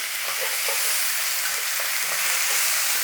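Garlic and ginger sizzle loudly and steadily in a hot pan while cooking chana dal masala, an unbroken crackling hiss with faint pops and no talking.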